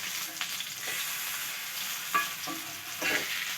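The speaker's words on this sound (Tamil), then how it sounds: "ஆயில் கொஞ்சமாக சுற்றி விட்டுக்கிறேன். மீன் இப்போ திருப்பி விட்டுடலாம்." Fish coated in coconut fries in a pan of oil at home, giving a steady close sizzle with a few soft scraping knocks as the pieces are stirred and turned over.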